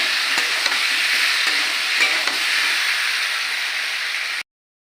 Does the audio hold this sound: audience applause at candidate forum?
no